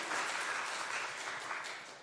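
A church congregation at a Sunday service in Jeonju claps and applauds for two young choir members, a steady dense patter of many hands that fades slightly toward the end, with no talking over it.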